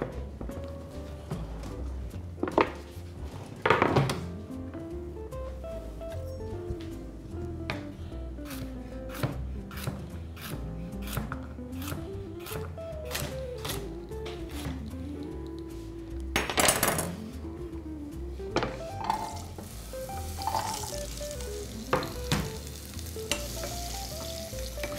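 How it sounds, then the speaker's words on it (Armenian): Coarsely chopped carrots fry in vegetable oil in a pan, a steady close sizzle running throughout with occasional clinks and scrapes of stirring. "Բուսայով տապակում ենք ոչ մանր կտրատած գազարը։"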